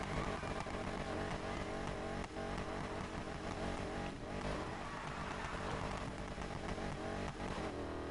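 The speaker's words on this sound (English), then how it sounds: "Like, that's a muscle car." A muscle car revs hard in Need for Speed Heat, its engine roaring loud and continuous with steady throttle swells and brief dips, close and unbroken for the whole stretch.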